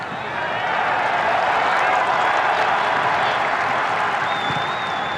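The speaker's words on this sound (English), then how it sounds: "Got a bit of a round of applause there from the Lebanon fans over in the far distance there" Lebanon fans applaud from far across a football ground during a match against Djibouti, a soft, steady wash of distant clapping and crowd noise that runs the whole time beneath the stadium murmur, with a faint whistle near the end.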